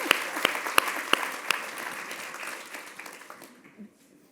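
An audience at an author conversation event claps loudly and then fades, with sharp individual claps audible at the start and the applause dying out within about four seconds.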